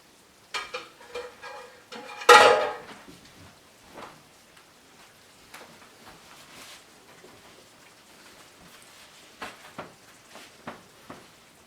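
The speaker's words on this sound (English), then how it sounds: "Give me 1 second to switch pots." Pots clank and shift on a stovetop while osso buco simmers for serving over polenta, with one loud metallic clatter early, then scattered knocks, scrapes and a faint sizzle.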